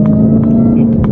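A Dodge Hellcat with drag tires, 717 hp, cruising at night gives a steady, loud low engine drone with a strong harmonic hum throughout, a few brief higher blips over it.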